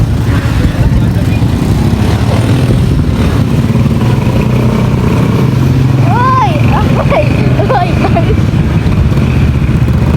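Motorcycles crowd a town public market, their engines idling and revving in a steady, close, loud drone that runs throughout, with people shouting and talking over it.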